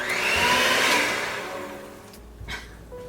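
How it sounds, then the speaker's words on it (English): Electric mixer whirring through pumpkin roll cake batter, a loud close buzz that fades after about a second and a half, then a brief clatter. "let's mix this a little bit first"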